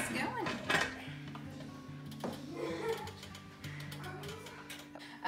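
A pressure canner loaded with venison jars is handled and set up, giving metallic clanks, lid scrapes and ratcheting clicks close by over a steady low hum, with a sharp clatter near the start.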